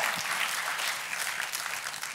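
A church congregation applauds during a sermon, a dense, steady wash of clapping from many hands filling the hall throughout.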